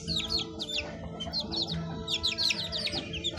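One-month-old baby chicks cluck and chirp continuously, high peeping calls repeating in quick overlapping bursts over a low background hum, close and fairly loud throughout.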